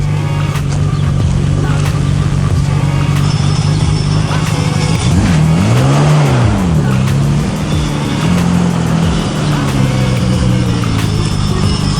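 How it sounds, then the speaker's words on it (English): A Nissan R32 pulls out of a driveway, its engine a steady close drone that rises and dips in revs midway before settling back to a smooth, continuous hum. "So we're taking the R32 for a drive"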